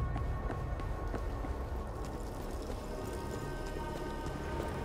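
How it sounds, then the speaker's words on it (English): Steady rain in the video game Killing Floor 2, a continuous soft hiss of falling drops with scattered light taps, even and unbroken throughout with no voices. "The rain always wakes me up."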